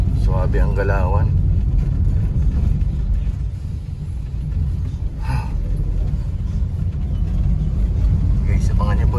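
Motorcycles weave through congested traffic on a road, a steady loud engine rumble with passing vehicle noise throughout, and people talk over it.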